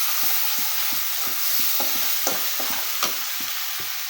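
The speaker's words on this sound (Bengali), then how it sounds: "তো মশলাগুলো দেওয়ার পর একটু ভালোভাবে নাড়াচাড়া করে মিশিয়ে নিচ্ছি" Spices stirred into katla fish and mung dal frying in a pan, a continuous hiss of sizzling broken by regular, rhythmic scrapes of a spatula, about two or three strokes per second, with no talking.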